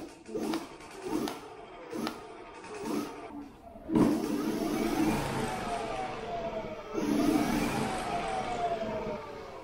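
A Kaabo Wolf King electric scooter with a Magura twist throttle gives rising and falling motor whines over several short throttle bursts, then two longer, louder surges with road and wind noise.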